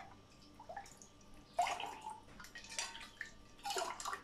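Homemade organic rose water sherbet poured into a glass, heard as soft, faint splashing and dripping in a few irregular bursts in a quiet room.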